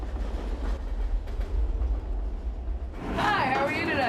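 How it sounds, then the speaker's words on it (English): A circus train rolls along through the night, its low, steady rumble of wheels and cars running continuously, with a brighter surge of rail screech and rattling joining in toward the end. "The train is moving again."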